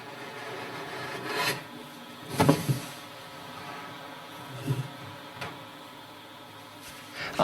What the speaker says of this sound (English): Sakai runs the plane over it once again.